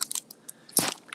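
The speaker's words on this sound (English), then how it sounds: "that's my Hershey chocolate bar." Someone bites and chews a Hershey chocolate bar in a break room, with a few small crisp crunches and one louder bite near the middle, close and quiet over a faint airy vent hiss.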